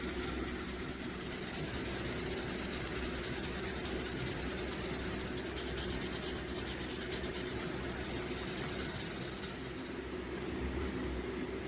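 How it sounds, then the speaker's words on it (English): Sandpaper rubbing rust off the blade of a vintage Stag knife made in Ireland: a steady, continuous close-up scratching hiss with a fast back-and-forth rhythm, unbroken for the whole stretch and heard alone. "just going to give it a nice rub up and down all the way along, get into all those places"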